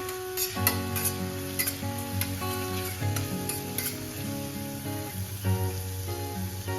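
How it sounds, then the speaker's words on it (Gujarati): A ginger-chili spice paste for corn vada sizzles and fries steadily in a hot pan while it is stirred, with music playing in the background. "અને આ પેસ્ટને આપણે 1 મિનિટ જેવું થોડું બરાબર સાંતળી લઈશું."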